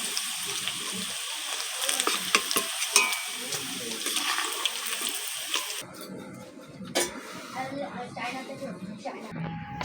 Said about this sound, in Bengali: এইভাবেই কিন্তু আমি সব মাংসগুলোকে ভেজে নেব।